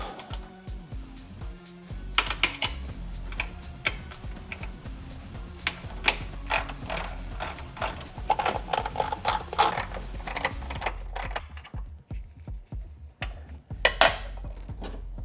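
Ratchet loosening bolts on a 2020 Subaru WRX during a Cobb flex fuel kit install: bursts of rapid clicking ratchet strokes, close and fairly loud, with pauses between bolts and a final sharp rattle.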